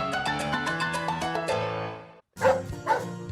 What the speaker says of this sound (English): That's my dog, Annie.